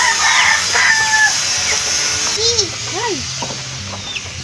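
A chicken clucks with a few short, rising and falling calls partway through, close by and moderately loud over a steady outdoor hiss, while a person briefly exclaims nearby.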